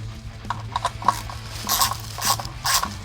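A long screw driven by hand into the back of an EVH Wolfgang guitar gives close, small ratcheting clicks and scraping creaks in irregular bursts, with no voices.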